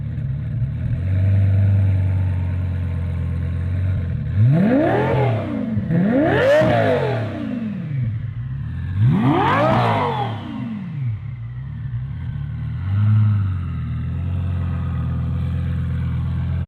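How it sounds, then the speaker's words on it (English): A straight-piped Lamborghini Gallardo V10 idles close by, then is revved hard toward redline three times, each rev climbing sharply and dropping back to a burbling idle. "Lamborghini Gallardo hitting red line and revving."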